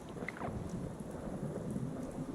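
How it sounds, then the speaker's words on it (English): In the game Fallout 4, steady rain falls with a low rolling rumble of thunder, all soft and continuous with no voices. "Rain."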